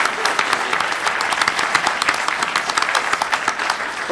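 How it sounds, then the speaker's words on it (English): An audience at a metropolitan policy briefing applauds the discussants, a dense, even wash of many people clapping, loud and sustained for the whole stretch. "let's give them a round of applause"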